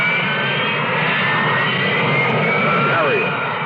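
A Harrier jet's engine roars loud and continuous with a high whine, under a narrator's voice.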